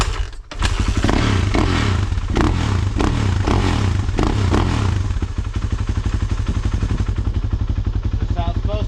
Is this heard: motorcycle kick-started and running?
yes